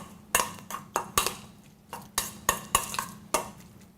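Steak tartare being stirred and mixed in a bowl, a series of sharp clinks and scrapes of a utensil against the bowl in an irregular rhythm, close and fairly loud with no talking.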